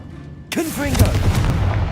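A Confringo fire-spell blast in Hogwarts Legacy, a sudden loud boom followed by crackling, rumbling burst under a brief spoken spell cast.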